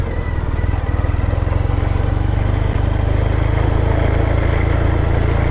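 A Triumph Thruxton 900 motorcycle ridden slowly near a cul-de-sac, its engine putting out a steady, loud, low rumbling pulse that holds constant from start to finish, with no voices.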